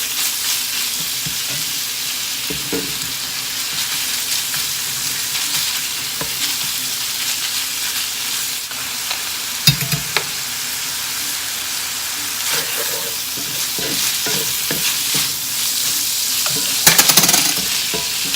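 Sausage gravy cooks in a pan with a steady, close sizzle, as a spoon stirs and scrapes through it, with a few sharper clinks near the end and no talking.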